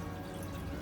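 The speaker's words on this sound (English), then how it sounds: "So now we flush it. So 2 gallons of water went down with it." An RV toilet flushing roughly 2 gallons of water down into the holding tank, a steady rushing, gurgling wash of water that runs through the whole moment.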